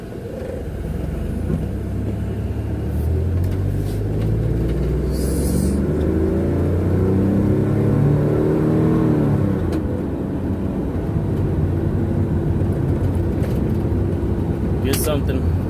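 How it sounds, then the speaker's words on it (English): A 1997 Ford F-150 single cab pickup cruising, its engine rumbling and whirring steadily with a gradual rise and fall in pitch as it accelerates, heard from inside the cab under a low continuous road drone. "Came for a little cruise in the single cab."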